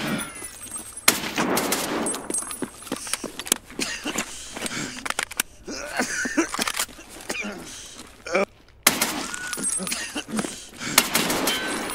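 Gunfire in Escape from Tarkov, with sharp shots and rapid bursts cracking in clusters across the scene, pausing briefly before more volleys, and a voice talking in between.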